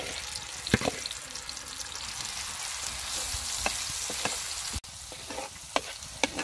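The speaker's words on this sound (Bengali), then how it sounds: "মশলাটাকে খুব ভালোভাবে রান্না করে নিব" Marinated masala for chicken chap fries in a pan, a steady close sizzle broken by scattered scraping stir clicks of a spoon against the pan.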